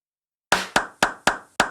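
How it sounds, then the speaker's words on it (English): A Drum Machine Designer clap sample in Logic Pro 10.5 sounds five times in a quick, even rhythm after half a second of silence. Each hit is sharp, dry and close, with a short decay. "And we're hearing the clap."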